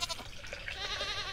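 Goats in the farming video game Stardew Valley bleat in a short burst of quavering cries, fairly close, over a soft steady background with no talk.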